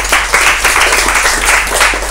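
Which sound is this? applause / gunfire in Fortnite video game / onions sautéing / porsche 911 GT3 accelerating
applause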